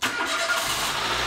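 A Dacia Sandero's engine starts and settles into a steady running note, recorded up close and fairly loud with no one speaking.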